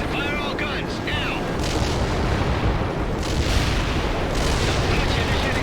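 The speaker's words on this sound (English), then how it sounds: "Fire all guns" Guns firing in a flyby attack in the strategy game World in Conflict, sustained dense battle noise with booming and rattling fire throughout, loud and continuous, with radio-style voices briefly audible early on.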